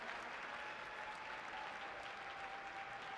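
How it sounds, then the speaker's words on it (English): An audience claps in steady, dense applause at a FIRST robotics state championship event, moderately distant and sustained throughout without pause. "let's give another round of applause to Mary and all the fantastic work that she does for Finn"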